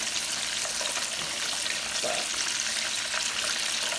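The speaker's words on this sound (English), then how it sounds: "sometimes when they're deep frying" Steady, dense sizzling and crackling of mozzarella sticks deep frying in hot oil, continuous and fairly loud throughout.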